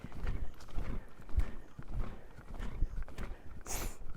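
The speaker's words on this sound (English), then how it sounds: "it's a great canter, very well balanced, very organized" A horse canters in a riding arena, its hoofbeats coming as soft, muffled rhythmic thuds at moderate distance, with a faint brief high sound near the end.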